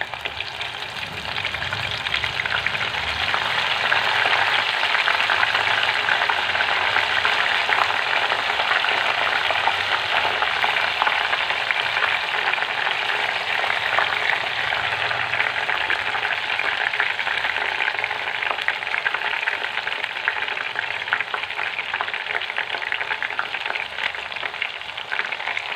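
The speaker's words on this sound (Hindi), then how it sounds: "इसी तरह बाकी दाल को भी हम फ्राई कर लेंगे।" Chana dal frying in hot oil for crispy namkeen gives a steady, loud, unbroken sizzle that holds for the whole stretch with no voices.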